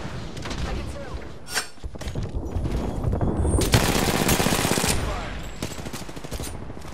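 Gunfire in Apex Legends: rapid automatic bursts and sharp shots, loud and close, with a dense sustained volley in the middle, while a voice talks over parts of it.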